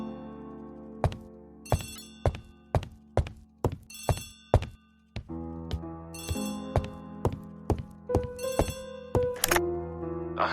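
Old-style telephone bell ringing in Agatha Christie The ABC Murders on Nintendo Switch, a series of sharp, clear rings in a steady rhythm, close and prominent, with soft game music underneath and no talk.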